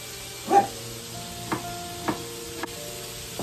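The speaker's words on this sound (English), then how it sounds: "let me stir and chop the meat a little better" Meat stirred and chopped in a pot gives several distinct scraping knocks of a utensil against the pot at uneven intervals, close up over a faint background hum and sizzle, with no talking.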